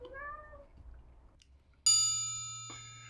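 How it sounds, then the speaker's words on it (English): A cat meows a few times with rising and falling tones, followed by a bright metallic ding that rings out and slowly decays, with a softer clatter near the end. "What you've just heard then is a cat."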